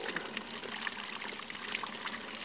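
Cold spring water flows out of the ground in the Adirondacks, a steady soft trickle and pour with small splashy bubbles, fairly quiet and continuous with no voices.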